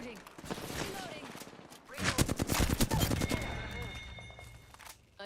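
Rapid gunfire from a shooter video game bursts loudly in the middle of the stretch, with dense automatic fire and a steady tone underneath, all under a quieter, busy background of game sounds.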